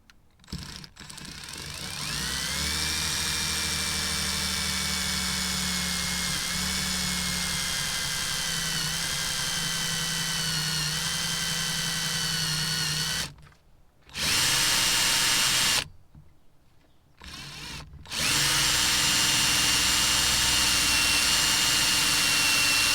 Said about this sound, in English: So let's get on and drill those holes.